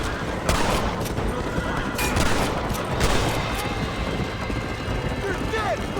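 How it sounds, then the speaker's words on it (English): Rapid gunfire in the video game Red Dead Redemption, a dense run of shots and cracks over continuous noisy battle ambience, with voices talking during the fight. "They're shooting right at me."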